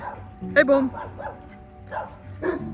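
Guard dog barking a few times at mid distance, the barks mixed with a man calling out over the noise.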